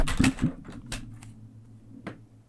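A phone dropped onto a computer keyboard gives a quick burst of clattering key hits near the start, then a few lighter isolated clicks before it settles, close and fairly faint.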